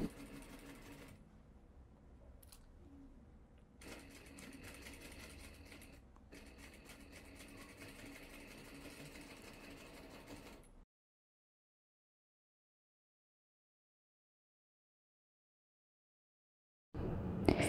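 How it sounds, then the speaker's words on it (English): A sewing machine stitches a dress seam in a fast, even mechanical whir with a few brief pauses, then falls silent for several seconds before a short loud burst at the end. "Natalie is going to stitch the seam this way."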